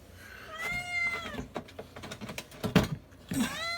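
A pet cat lets out two distinct meows, one near the start and another near the end, close and fairly loud, with soft handling noises and rustling between them.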